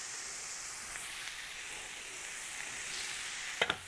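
Chopped garlic sizzles in a hot frying pan while cooking a chicken korma, a soft, steady frying hiss with a couple of faint stirring clinks near the end.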